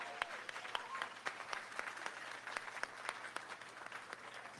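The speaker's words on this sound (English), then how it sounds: "Let's give a big round of applause." A crowd at a Philadelphia civic ceremony where Quinta Brunson receives the key to the city breaks into sustained applause, dense clapping heard from a moderate distance and fairly soft, with no talking.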